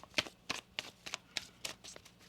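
Tarot cards being shuffled by hand in a rapid series of soft riffling swishes, about eight quick strokes, close and quiet.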